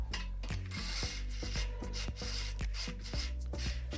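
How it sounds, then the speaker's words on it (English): A ratchet wrench tightening bolts while assembling a Haoqi Antelope electric bike, rapid close clicking strokes in a steady rhythm with metallic pawl ticks and a few brief pauses. "So I'm gonna tighten the other side."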